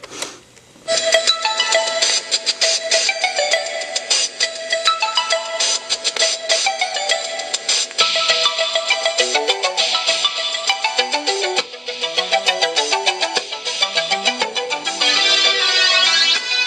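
Thin, tinny music plays back continuously from a 1979 Audiotronics 148B school cassette recorder, bright and lacking bass, with busy melodic lines throughout and no talking.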